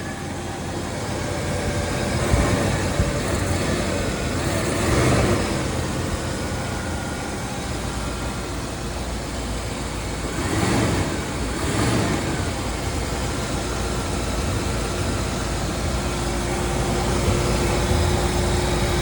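A 1980 Mercedes-Benz 450SL engine idles steadily after a cold start, a constant mid-pitched rumble with a few brief swells in revs.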